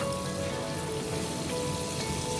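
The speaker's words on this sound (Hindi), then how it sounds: "हमारे जब राई और ज़ीरा ज़रा भून जाएं" Mustard seeds and cumin frying in oil in a pan, a soft, even sizzle like light rain that runs on steadily at low volume, with no voices.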